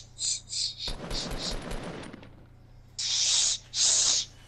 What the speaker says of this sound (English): On the mountain, they're shooting at us!